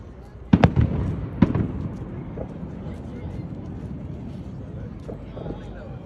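Fourth of July fireworks crack and thump outdoors, with two sharp bursts early on, then a rumbling crowd-and-ambience wash with faint distant pops, and people talking nearby.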